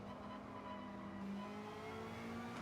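A race car in the Gran Turismo video game brakes into a corner, its engine a loud, continuous buzzing drone whose pitch eases slightly downward over a couple of seconds, with no one speaking.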